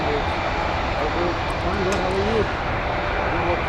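A Boeing 737 airliner approaching Dublin Airport gives a steady, loud jet engine roar throughout. Someone talks over it.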